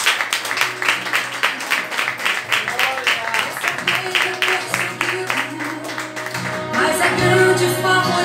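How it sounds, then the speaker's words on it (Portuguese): A church congregation claps rhythmically in a brisk, continuous burst, with voices and music rising near the end as the applause swells. "E aplaude a Ele,"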